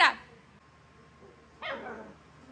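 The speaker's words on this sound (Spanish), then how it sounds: "Ay, para seguirme ladrando" A house dog gives two sharp, close barks, one at the start and another after a quiet pause of over a second.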